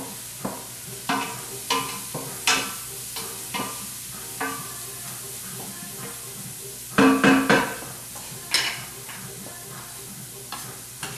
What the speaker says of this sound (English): We'll give the onions a stir.